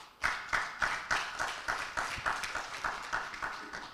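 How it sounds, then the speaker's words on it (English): A few people clap in a slow, distinct rhythm for a speaker at a high-level conference panel, each clap separate and fairly close, with no talk over it. "Can we give him another round of applause, please?"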